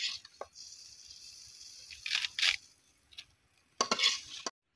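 Sliced venna vegetable fried in a pan, a steady soft sizzle broken by a few scraping stirs of the spatula, close and without voices.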